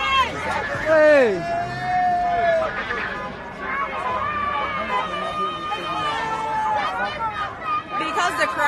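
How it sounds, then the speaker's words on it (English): A celebrating crowd fills a Baltimore street with cheering, whoops and a loud babble of voices, near and continuous, with shouts rising above the hubbub. "the crowd today is really happy and celebrating"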